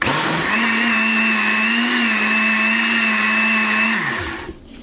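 A blender runs steadily, mixing baghrir batter made with flour and semolina for Algerian crêpes. It holds a loud, continuous motor whine for about four seconds, then winds down and stops.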